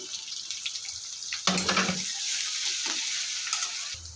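Ginger-garlic paste frying in a pan while pigeon meat curry is cooked with onion and green chilli, a steady sizzle with a louder burst of spattering as the paste hits the oil, then continuing sizzling and stirring.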